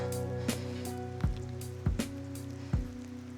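Scattered raindrops on a trail in Southeast Alaska tap sharply one at a time over a steady low hum, a few distinct hits spread unevenly, nearby and fairly soft.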